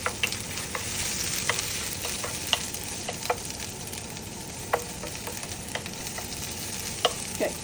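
Vegetables for noodles sizzle and crackle in a hot pan, a steady frying hiss broken by scattered clicks and scrapes of stirring, fairly quiet and close.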